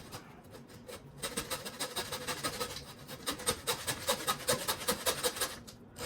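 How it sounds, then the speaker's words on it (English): A large handsaw cuts through the ribs and spine of a roaster pig with quick, rhythmic rasping strokes, close and moderately quiet, the pace picking up into a steady back-and-forth after a brief start. "This is where a large handsaw comes in handy, because you want to be able to reach the whole distance of the ribs, or the spine"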